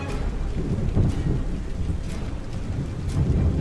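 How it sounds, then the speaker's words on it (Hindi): Steady heavy rain pours down with low, rolling thunder rumbling throughout a dark, stormy night. "ये बारिश कब रुकेगी?"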